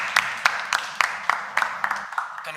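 A small class claps for a student called up to debate, with sharp separate hand claps at an irregular, spaced-out rhythm, close and moderately loud, fading near the end.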